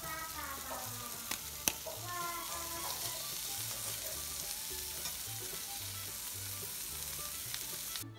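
Canned tuna fish cutlets fry steadily in a pan with a constant sizzle and a few sharp clicks near the start, close and continuous with no talking.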